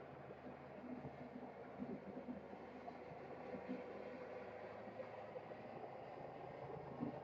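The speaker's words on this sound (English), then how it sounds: "That's a helicopter going across the street from me." A distant, low rumbling drone of a helicopter hangs steadily in the background, faint and continuous, passing far overhead near a hospital.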